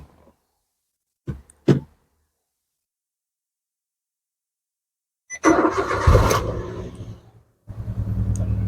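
An automatic car (AMT or CVT type) shifted into neutral starts up after a couple of short clicks, its starter whirring into a loud close engine catch, then settling into a steady rumbling idle.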